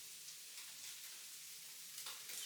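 Thai-style fried rice crackling in a hot pan, a faint steady hiss of sizzling oil with soft irregular pops and a brief louder flare near the end.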